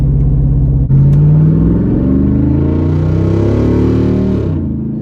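A car engine roars loud and close at full throttle, its pitch climbing steadily as it revs hard, then easing off at the end.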